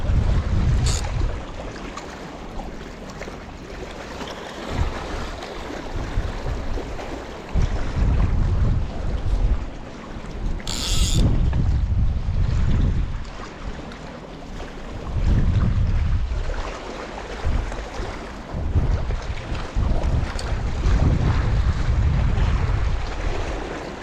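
Gusty wind buffets the microphone on a boat out on the water during a trout fly-fishing session at Ladybower, with low rumbling surges rising and falling in waves of loudness throughout.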